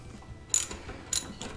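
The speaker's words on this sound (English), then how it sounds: "We are going to get our socket and spark plug socket on there" A ratchet socket wrench turning a spark plug out of a John Deere D105 lawn mower: two short, close metallic ratcheting bursts, crisp and bright, in an otherwise quiet setting.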